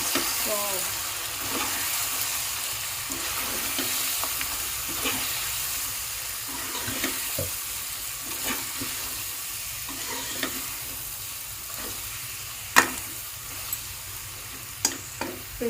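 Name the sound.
chicken with chili powder frying in a pan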